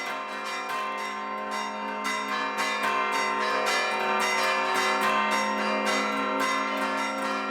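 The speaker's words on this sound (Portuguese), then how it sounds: "Esses toques de sino, o que a gente faz" Church bells ring a continuous peal from a tower, struck in a steady rapid rhythm with rich overlapping tones that sustain loudly throughout, with no voices.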